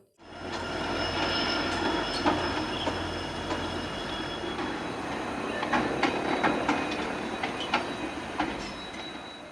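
A train runs on rails with a steady rumble, a rhythmic clickety-clack and occasional squeals from the wheels, heard at moderate distance.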